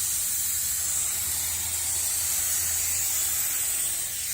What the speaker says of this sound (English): So I'm going to go ahead and spray this.